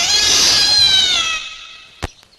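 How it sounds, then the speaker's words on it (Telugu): A cat gives a loud, drawn-out meow up close, sliding downward in pitch and fading, followed by a sharp knock. "మియావ్."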